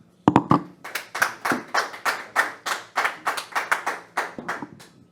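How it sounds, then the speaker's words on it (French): A small conference audience at an open source trade fair claps in a brisk, fairly sparse burst, with individual hand claps distinct and close, holding a steady rhythm for about five seconds with no talking. "On va pouvoir applaudir parce que c'était intéressant."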